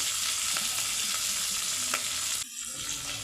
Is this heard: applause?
no